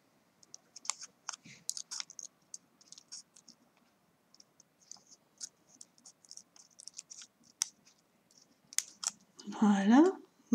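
Scissors cutting paper for a junk journal, light intermittent snips and rustles close by, then a louder burst of paper handling at the end, with someone speaking softly in between.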